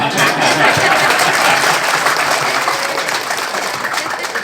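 Applause from the audience at a public gathering in Phan Saen, a dense, steady wash of clapping that stays loud throughout with faint voices mixed in.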